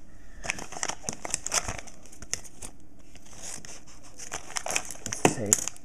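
Close crinkling and rustling of plastic packaging around aluminum mounts with sharp snipping scissor cuts, in irregular bursts, and someone speaking partway through.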